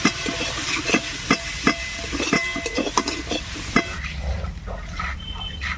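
Garlic and ginger fry in oil with a loud, busy sizzle and repeated spatula scrapes against the pan for about four seconds, then the frying settles into a softer, more muffled hiss.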